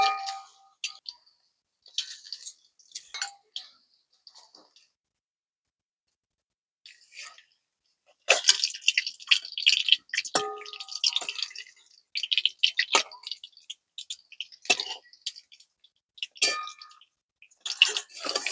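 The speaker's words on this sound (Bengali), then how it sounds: "এবার তেলের মধ্যে দিয়ে ভেজে নেব।" Beaten egg portions fry in hot oil in a home kitchen, with intermittent crackling and spitting bursts, quiet at first and then denser, close by.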